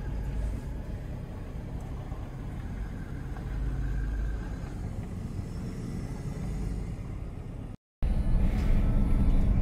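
A 900 hp Jeep Trackhawk drives along with a steady, loud low engine rumble and road roar from inside the cabin, briefly cutting out before resuming even louder.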